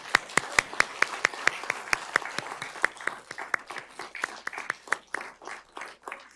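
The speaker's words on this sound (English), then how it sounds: "You may now applaud." Audience members at a 2018 Buena Park city candidate forum clap in a thin, sparse round, with individual sharp claps standing out and tapering off.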